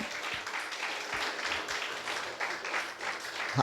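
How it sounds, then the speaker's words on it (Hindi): Congregation applauding during a Hindi-language church sermon, a steady wash of many hands clapping at moderate loudness throughout, with no voice over it. "जोर से क्या ताली बजा रहा है यार।"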